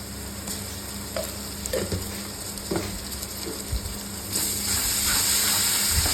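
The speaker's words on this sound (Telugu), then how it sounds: "2 స్పూన్ల జింజర్ గార్లిక్ పేస్ట్ వేసుకొని పచ్చివాసన పోయేంత వరకు వేయించుకోవాలి" Ginger garlic paste frying in a pan for a fish curry, with a steady sizzle and occasional stirring scrapes that swell into a louder hiss near the end.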